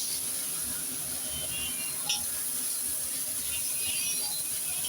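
Grated carrot tossed into hot oil already seasoned with bay leaf, giving a steady broadband hiss and sizzle throughout, fairly loud and even, with a faint clink or two and no voices.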